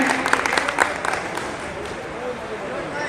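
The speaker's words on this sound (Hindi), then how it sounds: "बहुत जोरदार तालियां होनी चाहिए माशाल्लाह" Audience applause at a Rangrez Foundation of India conference in Gorakhpur, welcoming a speaker: a dense burst of clapping with a few louder peaks early on, then thinning into steady crowd noise, with voices mixed in.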